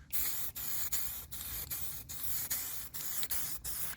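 Eastwood plastic resurfacer trim dye sprayed from an aerosol can onto old plastic trim on a high-mileage Corvette, a steady close hiss in repeated bursts with brief gaps about every half second, no voices.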